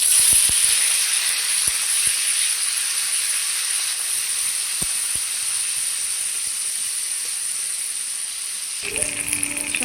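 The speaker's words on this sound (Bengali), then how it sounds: "কড়াইয়ে তেল দিয়ে দিয়েছি গরম হয়ে গেছে দিয়ে দেবো শুটকি মাছগুলো" Steady hiss of dried fish frying in hot oil in a wok, continuous and fairly loud, with a few faint knocks; the sizzle shifts slightly near the end.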